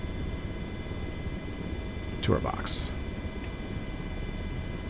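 A Miltech MH-60 RC helicopter taxis on the ground with its tail wheel unlocked, giving a faint, steady motor whine over wind noise while someone talks briefly.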